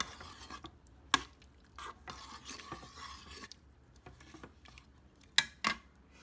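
A spoon stirs a thickening sauce in a pan, giving soft, intermittent scraping and rubbing with a couple of sharp metallic clinks, quiet and close with no talking.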